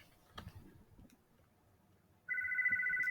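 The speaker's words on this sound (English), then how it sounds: "Excuse my phone." A phone ringtone starts partway through and keeps sounding steadily, a loud electronic ring over faint background noise after a few soft taps and knocks.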